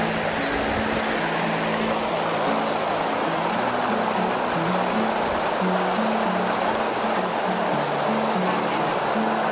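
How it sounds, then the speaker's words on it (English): A waterfall and stream on the Cumbria Way after rain pour in a continuous, loud broadband rush, with a low hum beneath and no clear pause in the flow. "This section is quite waterfall-y all the way, but it's a more notable one for you."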